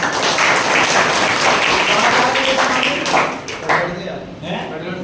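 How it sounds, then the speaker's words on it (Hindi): An audience applauds at a motivational business event, with a dense wash of clapping that thins toward the end, mixed with voices. "एक जोरदार तालियां"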